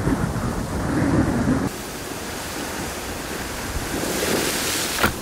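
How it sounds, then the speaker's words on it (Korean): Strong wind blows by the sea at a wildlife filming site, a loud, continuous buffeting roar mixed with surf that eases slightly midway and gusts again toward the end, with no voices. "바람이 거세졌습니다."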